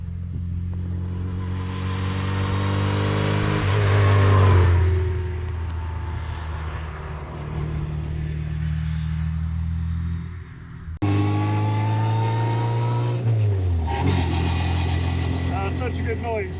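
A 1959 Lotus Seven with a 1275 BMC engine accelerates loudly nearby, its revs climbing in rising harmonic sweeps, then a brief lift and a second hard pull through the gears, with voices speaking over the engine.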